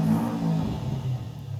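A Subaru BRZ engine in Forza Horizon 5 revving briefly, a close, throaty burst that settles into a lower hum.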